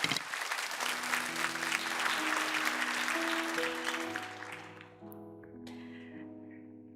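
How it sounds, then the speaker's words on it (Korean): A church congregation claps warmly for a young woman invited up to give testimony, a full burst of applause that fades as soft organ or keyboard chords rise and hold alone. "우리 큰 박수로 우리 자매를 좀 초대해 주시면 감사하겠습니다"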